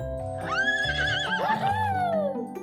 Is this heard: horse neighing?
yes